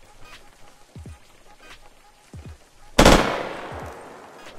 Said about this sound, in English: He's shooting. He's shooting zombies.